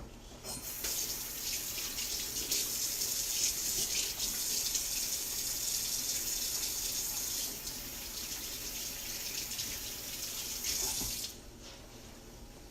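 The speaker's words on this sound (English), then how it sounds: "let me wash my hands" Tap water runs steadily into a kitchen sink as hands are washed beneath it, a continuous close hiss and splash lasting about eleven seconds before the flow is shut off.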